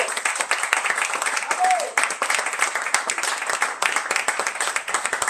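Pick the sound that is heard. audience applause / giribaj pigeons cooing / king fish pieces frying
audience applause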